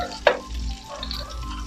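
Onion sautéing in a pan makes a soft, continuous sizzle. A single sharp tick of a utensil against the pan comes early, and no one talks.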